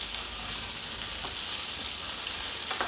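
Stuffed brinjals roasting in a covered pan over a low gas flame, giving a continuous, even sizzle with faint crackles and pops, close and steady with no talking.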